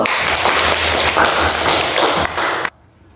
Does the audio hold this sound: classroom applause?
yes